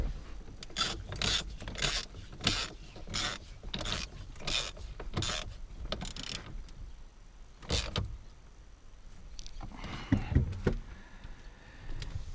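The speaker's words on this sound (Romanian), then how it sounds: "Punem piulița. Pe care o și strângem." A nut on a Nissan Qashqai steering wheel is tightened with a hand tool, giving a close run of about ten evenly spaced ratcheting strokes, followed by a few scattered clicks and handling noises.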